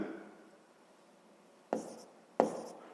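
Pen or pencil writing out a sixth-grade math solution on paper, a soft scratchy rub close by, followed by two short, sharper strokes or taps, with quiet gaps between.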